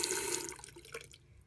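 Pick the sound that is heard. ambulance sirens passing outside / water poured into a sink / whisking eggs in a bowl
water poured into a sink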